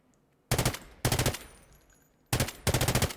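Bursts of MK46 light machine gun fire in the shooter game Delta Force: three loud, rapid strings of shots separated by short pauses, with no talk.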